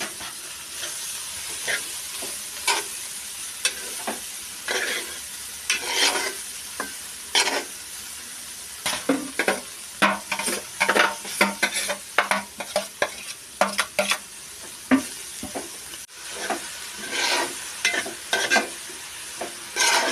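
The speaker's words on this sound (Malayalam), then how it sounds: "അത് വാഴക്കൂമ്പ് അരിഞ്ഞത് കൊത്തി അരിഞ്ഞത് ഇതിലേക്ക് ഇടുകയാണ്." Chopped banana flower and lentils sizzle and get stirred in a frying pan, with a steady hiss broken by repeated scraping and clattering stirs that come in irregular bursts.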